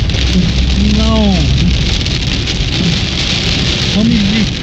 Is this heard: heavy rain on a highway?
yes